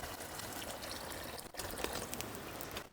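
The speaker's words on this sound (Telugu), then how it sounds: "టూ హండ్రెడ్ ఎంఎల్ నీళ్ళు పోసుకుందాం" About 200 ml of water pours steadily into a pot of chicken tikka masala curry, a continuous close splashing gurgle with a brief break midway.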